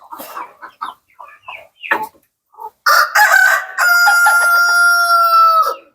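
Hens cluck in short choppy bursts, then a rooster lets out a long, loud crow close by, the call ringing out strongly over the flock.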